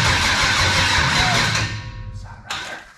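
A Mailmanche project car's engine cranks and runs roughly under low fuel pressure, a loud rumbling churn for about a second and a half before dropping away, then a short burst returns near the end.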